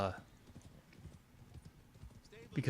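Steady clip-clop of a large, slow video-game horse's hooves at a slow walking pace, with a voice talking over it.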